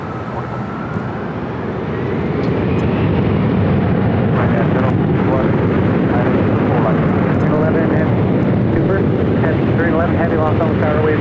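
A Korean Air jet airliner arriving at Los Angeles International Airport, a loud sustained roar that swells after the first couple of seconds and holds steady, with some wind buffeting the microphone.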